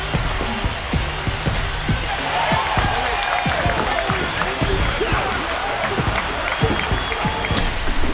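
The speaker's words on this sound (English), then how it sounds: "That's a great way to fire up this crowd. They're feeling it now." Stadium crowd roars and applauds steadily after a home run in the MLB The Show 25 baseball video game, Detroit Tigers vs Washington Nationals, a dense continuous cheer with broadcast commentary speaking over it.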